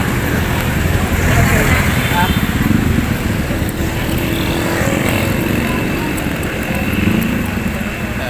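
Jeepneys and other traffic roll past on a town street in Santa Rosa, Laguna, Philippines, a steady loud engine rumble and road noise throughout with someone talking over it.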